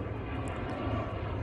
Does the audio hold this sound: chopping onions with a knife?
no